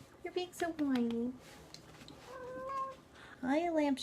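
Whiny cat under medical treatment meowing close by, a few drawn-out rising and falling meows in separate bursts, with faint background sound between them.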